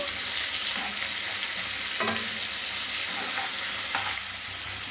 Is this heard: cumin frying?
yes